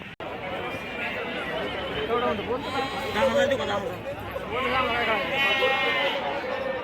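Goats bleat repeatedly amid a busy outdoor crowd at the Lonand goat and sheep market in Maharashtra, several calls overlapping with chatter and voices nearby.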